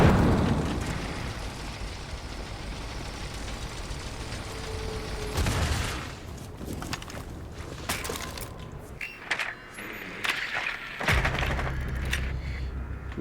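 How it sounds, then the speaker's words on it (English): A flashbang grenade goes off in Rainbow Six Siege, giving sharp bursts and a loud blast amid continuous game noise, with several abrupt impacts in the second half and no talk. "Throwing flashbang."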